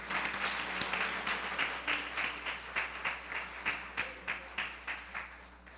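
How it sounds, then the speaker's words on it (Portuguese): Rhythmic clapping from a church congregation, steady beats falling into a regular pulse, moderately loud in a reverberant room. "Você pode dar uma salva de palmas ao Senhor?"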